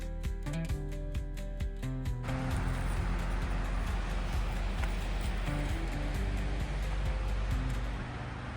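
Racing River flowing beside a dispersed campsite along the Alaska Highway in British Columbia, a steady loud rushing wash of water that fills the whole stretch, briefly preceded by a few musical tones.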